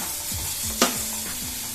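Ingredients for a crab curry fry in a hot pan with a steady, close sizzle, while a spoon stirs and scrapes in short repeated sweeps and one sharp clink cuts through.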